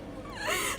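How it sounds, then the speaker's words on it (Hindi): A woman cries and wails outside the house, a brief wavering moan rising in pitch over faint background hum. "बाहर से रोने की आवाज आ रही है"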